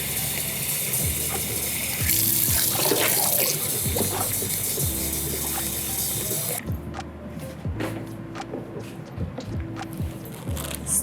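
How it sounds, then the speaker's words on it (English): Water gushes steadily into a vat for paper making, a dense rushing pour for several seconds that then drops to quieter trickles and splashes, with faint clicking. "And fill the vat with water."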